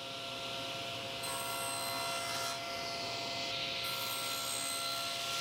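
A table saw cuts miter spline slots into the corners of a wooden box, a steady loud whine and rushing hiss with brief shifts in tone as each slot is cut.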